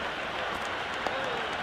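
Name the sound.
cricket stadium crowd cheering in video game Cricket 26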